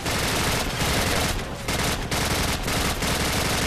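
Dense, loud automatic gunfire in Call of Duty 4, continuous bursts of rifle and machine-gun fire with brief dips, filling the whole stretch with no talk.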